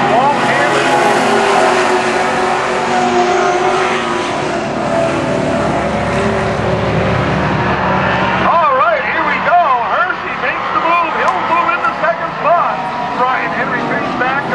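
Pro Stock stock cars roar around the Canaan Speedway oval, engines droning and surging as they pass, with a race announcer talking over the steady rumble.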